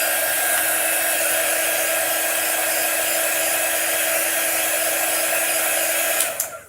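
Hair dryer blowing steadily on a chalk-art snowman star to dry it, a loud continuous broadband whoosh that holds evenly for several seconds before cutting off at the end.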